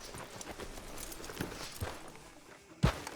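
Horse hooves clip-clop at a walk in Red Dead Redemption 2 outside a Western town's sheriff's office: a few soft, moderately close clops, then a sharp thud near the end.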